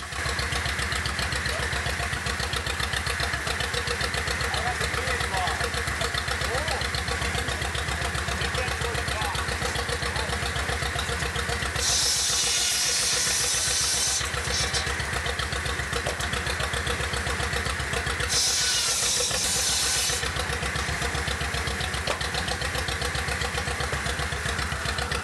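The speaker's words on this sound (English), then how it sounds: "They started the tractor-driven power saw." A loud tractor engine runs continuously and steadily throughout, driving a power saw, with two bursts of high, harsh whining noise from the saw cutting partway through.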